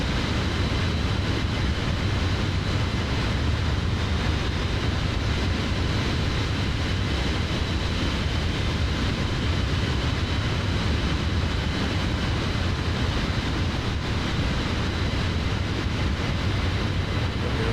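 A detailed airliner's engine in Microsoft Flight Simulator drones as a loud, steady broadband roar with a low hum beneath, unchanging and close for the whole stretch, with no voices.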